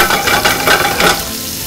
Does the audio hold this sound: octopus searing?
yes